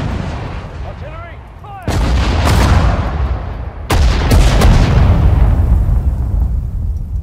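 Artillery fire in the video game Sudden Strike 4 during a British desert campaign mission: two loud booming blasts a couple of seconds apart, each followed by a long rumbling decay, with faint radio chatter before the first.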